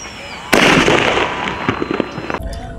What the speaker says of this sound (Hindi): सबसे पहले देख सकते हो क्लासिक ग्रीन बॉम्ब, इसकी टेस्टिंग कर लेते हैं।